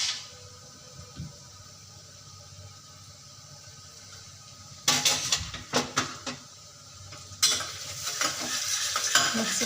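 Ginger garlic paste hits hot oil in a pan for a prawn biryani, crackling into a loud sizzle. It is stirred with sharp bursts of scraping and spluttering, near and without talk.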